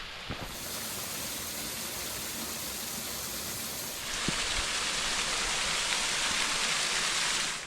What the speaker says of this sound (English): Not much further on is the precarious path down to the Glen Vale Waterfall.